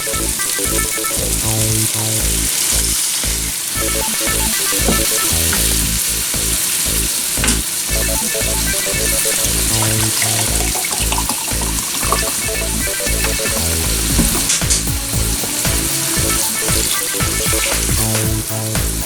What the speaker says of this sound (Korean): 이제 끓고 있습니다